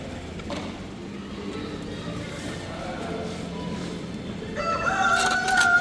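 A Serama rooster at a big purebred poultry competition in Malaysia gives a short crow near the end, amid a noisy crowd of talking people and other fowl.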